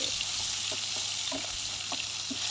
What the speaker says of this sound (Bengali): এখন একটু এই যে মাছ মাছ একটু পেঁয়াজ মরিচ দিয়ে ভাজবো